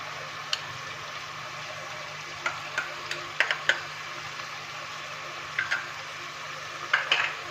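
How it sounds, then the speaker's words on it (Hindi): A teaspoon of garlic-ginger paste fries with softened onions in a pan for dal mash, a low steady hiss broken by scattered light clicks of a spoon stirring against the pan. "अब इसमें हम ये 1 टीस्पून है लहसुन अदरक का पेस्ट, हम ये इसमें ऐड कर देंगे"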